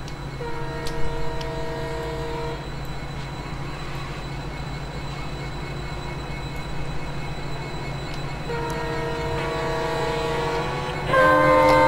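A WDP4B diesel locomotive pulls a freight train past in the Open Rails simulator, a steady low rumble of engine and wagons with sustained horn tones sounding near the start and again toward the end.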